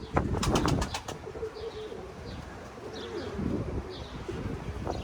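Pigeons coo softly and intermittently outdoors in stormy wind, with a brief burst of wing flapping at the start and a steady rush of wind underneath throughout.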